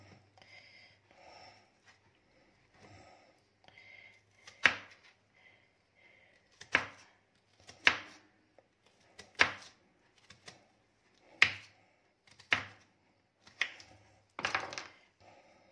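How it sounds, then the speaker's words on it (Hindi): Vegetables for a sweet corn salad are chopped into small pieces, with a knife hitting the cutting board in about seven or eight distinct, evenly spaced close thuds after softer scraping. "ये भी इस तरह छोटे छोटे पीस कर लेने जी"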